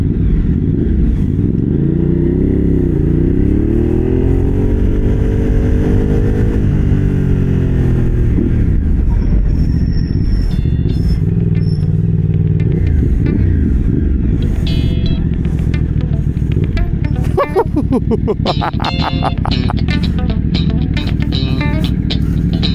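A Thrike Xcape V-Twin motorcycle of about 1200cc runs loud and steady throughout, its engine rising and falling in pitch as it revs, with some clattering near the end and occasional voices underneath.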